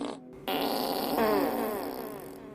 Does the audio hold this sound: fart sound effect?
yes